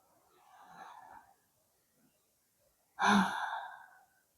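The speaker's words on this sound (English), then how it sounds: "we're just going to stay here for a few slow, deep breaths" Slow, deep breathing during a yoga session: a soft, drawn-out breath, a pause of quiet, then a fuller, louder sighing exhale that gradually fades, close and alone.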